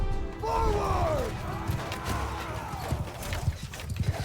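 Horse hooves and galloping in the video game Bannerlord, heard as rapid clip-clop beats under battle noise with a short whinny early on, growing more distinct toward the end.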